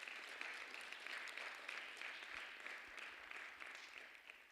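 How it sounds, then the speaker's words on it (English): An audience claps steadily at a presentation, a moderate patter of many hands that holds for several seconds and then gradually thins and fades toward the end. "How about just a round of applause?"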